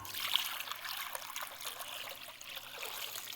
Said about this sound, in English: he pours it into the basin.